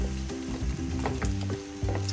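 Food frying in a pan gives off a steady, continuous sizzle for the whole stretch, with a low tonal hum running underneath and no talking.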